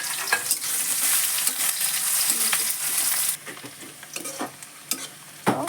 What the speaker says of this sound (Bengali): পেঁয়াজের রসুন একসাথে দিয়ে দেবো।